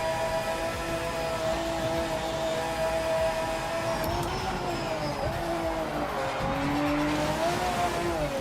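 A race car in the Project Motor Racing game spins out, engine droning steadily as the tires squeal and skid in long wavering whines, close and sustained for several seconds.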